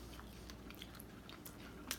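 Someone bites and chews a grilled ground beef, bacon and cheese sandwich, with faint, close crunches and soft mouth sounds over a low background hum.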